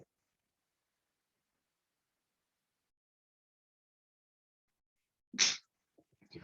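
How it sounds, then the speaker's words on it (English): Near-silence broken by a single sharp, close sneeze, followed by faint breathy rustles. "I could feel a sneeze coming on"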